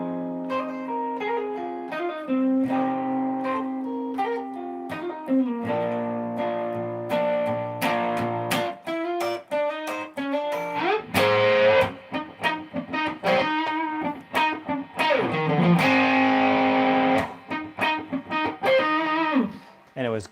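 An electric guitar plays a song's intro riff through effects and distortion, choppy funky notes and chords with bends, up close and prominent.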